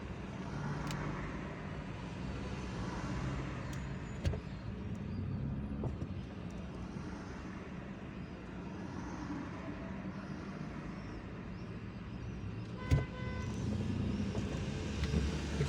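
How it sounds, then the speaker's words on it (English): Traffic rumbles along a busy street in the Algiers neighbourhood near Trioli Square, a constant low drone of cars and heavier vehicles with occasional sharp clanks and a brief brake hiss, heard without talk. "there is traffic here."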